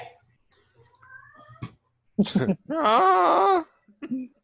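A house cat gives a drawn-out, wavering meow after a few short chirps, close and clear, with a shorter meow trailing after it.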